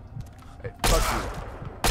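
Gunfire in the Fallout 3 video game, a loud burst of shots breaking in after a quieter stretch, followed by a second sharp report at the end.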